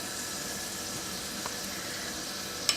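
Ground garlic paste sizzles in hot frying oil with a faint, steady hiss, a soft clink near the end.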